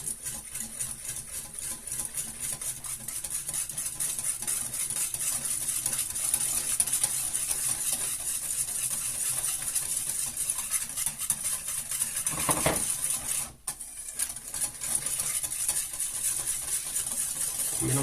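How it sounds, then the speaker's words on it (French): Crepe batter being mixed in a bowl, a steady continuous scraping and swishing of a whisk or spoon against the bowl that carries on throughout, with one brief pause near the end. "On mélange, on mélange, on mélange."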